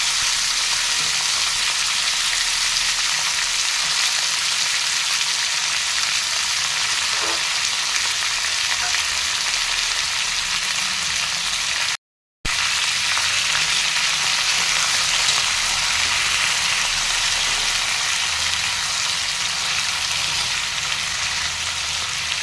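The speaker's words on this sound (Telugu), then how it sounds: "ఇప్పుడు ఈ కరివేపాకు వేగిన తర్వాత టమోటా ముక్కల్ని వేసుకోవాలి." Tomato pieces and curry leaves fry in a pan with a steady, even sizzle that stays close and constant, broken only by a brief silent gap partway through.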